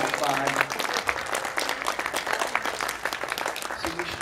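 Audience clapping at a carnival performance before the act begins, a steady dense patter filling the space throughout, with voices talking over it.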